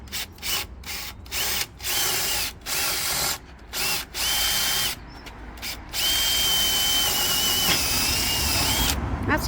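A power drill fitted with a large bit bores into wood for a camper van bed frame, running in repeated loud bursts with short pauses, then one longer steady whirring stretch toward the end.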